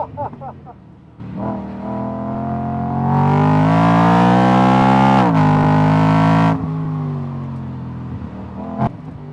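A BMW E92 M3 lapping the Nürburgring: its engine note climbs loud and close as it accelerates hard, holds a strained high howl, then drops away sharply as the throttle lifts, with gear changes and lighter engine sound before and after.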